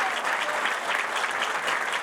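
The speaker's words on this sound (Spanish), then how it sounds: "un aplauso grande para la voz de Mar del Plata, que es Silvia Chumilla." An audience claps steadily and densely throughout at a public event in Mar del Plata, a continuous wash of applause with no pauses.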